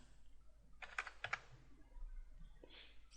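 Faint keystrokes on a computer keyboard entering a value during CAD work, a short cluster of three or four light clicks followed by one more soft tap against low room hum.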